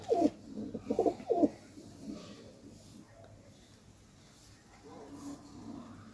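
Pet pigeons give a few throaty coos early on, close and clear, followed by softer, quieter cooing that fades in and out against a calm indoor background.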